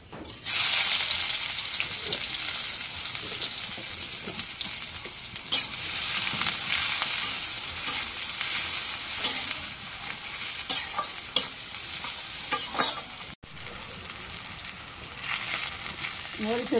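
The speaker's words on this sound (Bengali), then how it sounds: "এখন কড়াই তেল দিয়ে দিই" Onions hit hot oil in a wok with a loud sudden sizzle that settles into a continuous bright crackling hiss, with scattered stirring scrapes and clinks over many seconds and no talking.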